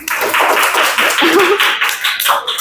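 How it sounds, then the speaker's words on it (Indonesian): A classroom of students claps for team Gelas Pintar in a loud, close, rhythmic unison beat, with a voice briefly rising over the claps. "Sekali lagi kita beri tepuk tangan dulu ke tim Gelas Pintar"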